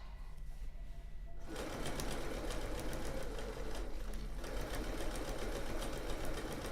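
A sewing machine stitches a seam in fabric, starting after a quiet moment and then running with a fast, steady mechanical whirr and rhythmic needle clatter up close.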